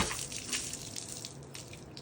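Water draining from a solar water heater into a bucket, a continuous rushing, splashing flow heard close up and steady throughout, with no voices.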